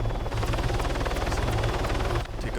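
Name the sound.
helicopter climbing in video game Arma 3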